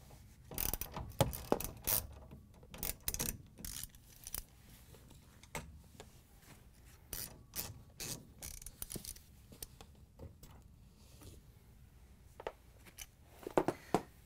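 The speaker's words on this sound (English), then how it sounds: "we're going to use a 5/16 socket with the ratchet to take the bolts out" A socket ratchet with a 5/16 socket backs out the bolts holding a GE refrigerator hinge to the frame, sounding as quiet, close bursts of rapid clicking separated by pauses and handling noise.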